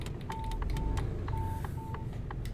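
A truck cab's warning beeper sounds on a steep downhill grade: a regular series of short, evenly spaced electronic beeps over the low, constant rumble of the engine and road.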